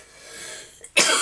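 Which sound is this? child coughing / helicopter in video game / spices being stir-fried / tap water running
child coughing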